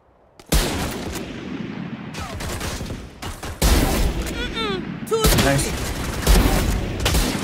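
Rapid bursts of gunfire and blasts in a Valorant match, loud and close, firing in repeated volleys over several seconds while players talk excitedly between shots.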